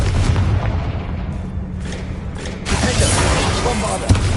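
A Confringo fire-spell blast in Hogwarts Legacy hits with a deep booming roar and a rumbling burst, surrounded by mechanical creaks and a sharp crack near the end.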